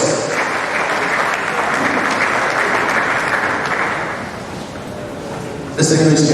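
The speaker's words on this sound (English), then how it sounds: "Let's give a round of applause." Loud applause from a lecture audience, sustained clapping that fades slightly near the end before a sharp burst at the close.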